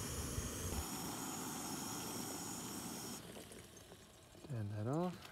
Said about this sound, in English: Oh, that's boiling. The jet boil,